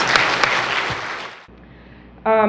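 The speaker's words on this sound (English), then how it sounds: "please put your hands together and give him and his organization a round of applause" Audience applause for a speaker at a talk about a clean-water project for children in Gaza. Loud clapping lasts about a second and a half and cuts off abruptly, then a brief tonal sound follows.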